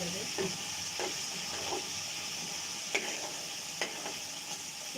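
Shrimp and ash gourd frying in a pan, a steady bright sizzle with occasional scraping clicks of a spatula stirring, close and continuous with no talk.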